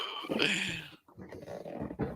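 An old dog growls low and rumbling in two stretches with a short break, close and moderate in level, with whimpering tones mixed in.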